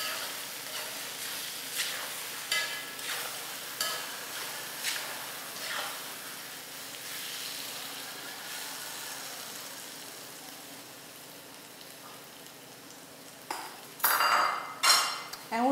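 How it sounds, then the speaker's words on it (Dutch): A spice mixture for chutney sizzles steadily in a pan, with scattered stirring scrapes and clinks of utensils against cookware, and a louder clatter near the end. "En hoe lang moet je dit bakken, dat mengsel van alle kruiden?"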